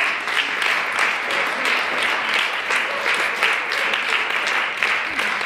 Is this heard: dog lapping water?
no